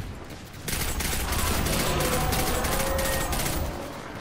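Sustained weapon fire in the video game Destiny 2, a dense rapid burst that starts after a brief lull and rattles on loudly for about three seconds before easing slightly, near and continuous.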